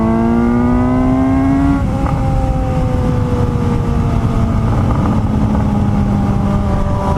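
A 2018 Suzuki GSX-S 750 motorcycle engine drones loud and close, its exhaust note dropping in pitch as it eases off into a steady rumbling burble, with constant wind and road roar and no voices.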